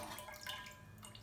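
Water running and dripping as it is drained off washed wheat kernels, a steady, soft, close splashing trickle with no talking.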